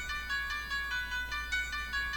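A heavily filtered piano lead for an NY drill beat, highs boosted, repeats a bright, thin, bell-like melodic pattern at moderate level, with a steady low hum underneath and no voices.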